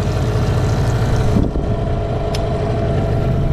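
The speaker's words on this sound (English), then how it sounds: "Richard working on the dinghy that won't stop running" A dinghy's outboard motor keeps running after its kill switch fails, a close steady idling drone with a faint click partway through.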